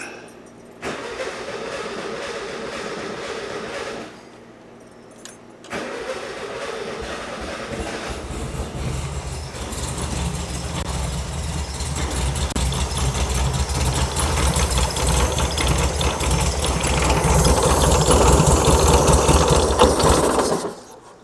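A 1976 VW Super Beetle engine with a new carburetor cranks, falls briefly silent, then catches and runs with a close, steady mechanical clatter that grows louder as the revs climb near the end.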